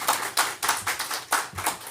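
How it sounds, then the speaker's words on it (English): Welcoming claps for a speaker at an annual general meeting, a handful of sharp, close claps in a loose, uneven rhythm, fairly loud and alone without talk. "Give Stuart a clap for me, please."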